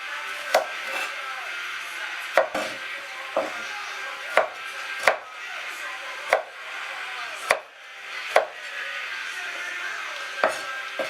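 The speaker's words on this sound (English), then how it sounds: "Then finely chop the garlic as well." Garlic being finely chopped with a knife on a board for beef vindaloo, giving irregular sharp taps spaced about a second apart, close and crisp, with no talking.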